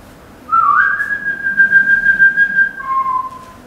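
A person whistles a Mozart tune, a clear sustained melodic line that slides up and holds before dropping to a lower note, close and loud over quiet room noise.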